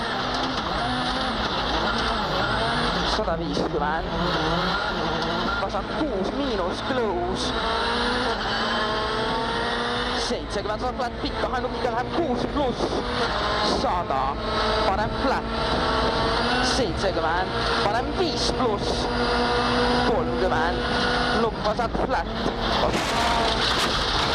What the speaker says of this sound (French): ça se termine mal pour Ott Tänak, avec une sortie de piste très spectaculaire